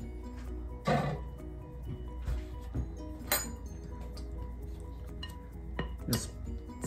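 A cake pan clinks and scrapes a few times while gluten-free chocolate chip bundt cake batter is spread into it, with sharp metallic knocks standing out from a quiet kitchen background.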